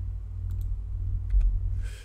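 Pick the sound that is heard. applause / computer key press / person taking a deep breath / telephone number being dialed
computer key press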